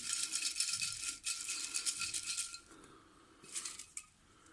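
Paper raffle slips for a budgie giveaway draw being shuffled by hand, giving a close, continuous papery rustle that pauses briefly before a final burst.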